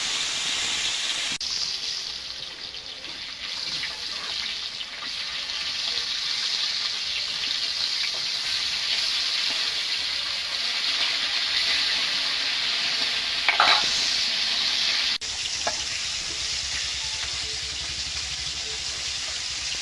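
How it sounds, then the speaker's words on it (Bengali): Small rohu and bata fish fry in hot oil with a long, even hiss and occasional spits and clinks, steady and close for the whole stretch, with faint running water mixed in. "মাছগুলো ভেজে নেবো"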